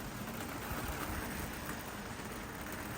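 Rain pours down nearby as an even, hissing wash of sound that holds steady throughout, with no voices over it.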